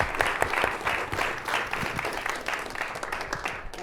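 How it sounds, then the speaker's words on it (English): Audience at a physics colloquium applauds a newly introduced faculty speaker, a steady, dense wash of many hands clapping at moderate distance throughout, with no speech over it. "So may we give her a round of applause for magnetism."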